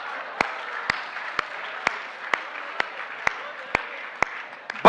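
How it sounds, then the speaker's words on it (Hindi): An audience at a comedy poetry recital claps in slow, evenly spaced unison beats, each clap sharp and loud, over a steady background hiss. "जिसको खुशी हो ताली बजाना, वरना मेरे से चिढ़ते हैं।"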